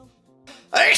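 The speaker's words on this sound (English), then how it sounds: "Oh, I sneezed." A single sudden sneeze bursts out close and loud at the end, after a quiet breathy lead-in.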